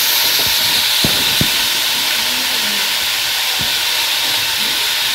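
Vegetables fry with cumin, turmeric, chilli and salt in a pan, giving a loud continuous sizzle close by, with occasional soft knocks and scrapes of stirring throughout.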